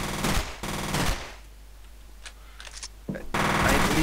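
Loud, rapid bursts of automatic gunfire in the first-person shooter F.E.A.R., two sustained volleys separated by a quieter stretch of scattered sounds, then another heavy burst at the end.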